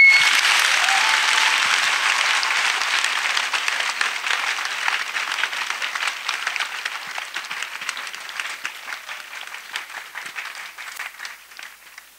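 Dense audience applause fills a hall at a 2023 gathering, starting full and thinning gradually into scattered, fading claps.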